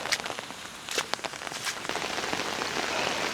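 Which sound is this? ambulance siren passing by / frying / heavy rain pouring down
heavy rain pouring down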